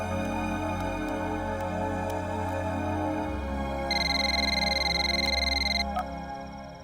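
A telephone rings with a steady electronic tone partway through, sounding over a continuous low hum and a few faint ticks.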